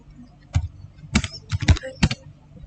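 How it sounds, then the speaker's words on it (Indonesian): Quick, light keystrokes on a computer keyboard come in a short irregular burst of about half a dozen clicks, close and clear, with no one talking. "di search ini kita ketik aja reclassify"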